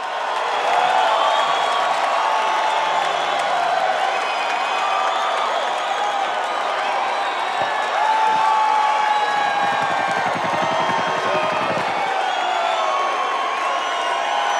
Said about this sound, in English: let's hear the crowd and really get the picture of what was going on this night